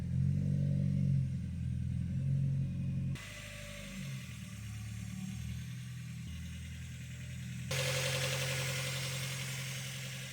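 A Mazda Miata engine runs after a clutch installation, a steady close idle with a low hum that drops off, then a rise in pitch as the engine revs higher near the end.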